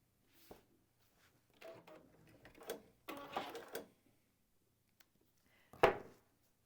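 A sewing machine joins small quilt block pieces in several short stitching bursts separated by quiet pauses, heard up close, with a sharper clunk near the end.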